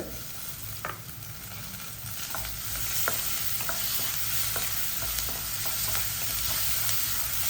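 Steady sizzling and frying of ginger garlic paste in a pan, with a spoon stirring and scraping at intervals, close and continuous with no talking.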